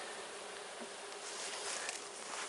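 Honey bees from a newly installed bee package buzz in a dense, steady swarm drone, close and continuous throughout with no talking.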